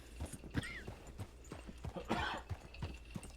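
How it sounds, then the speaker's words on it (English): A game horse in a Red Dead Redemption 2-style western roleplay clip-clops in a steady rhythm and lets out a short whinny midway, close and with no talk. "Somebody summoned a horse in the wrong spot."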